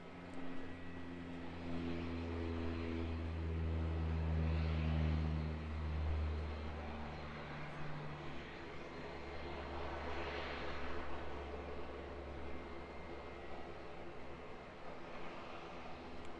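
A Dash 8 turboprop airliner departing Auckland Airport for Blenheim, its propeller drone carrying strong low tones that waver as it climbs away, moderately distant and fading, with no talking.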